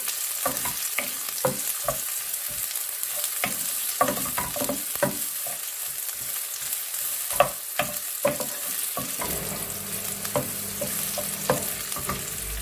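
Food sautéing in a pan for ginisang green beans with pork belly, with repeated sharp scrapes and clacks of a spatula stirring over a steady frying sizzle that grows more pronounced toward the end.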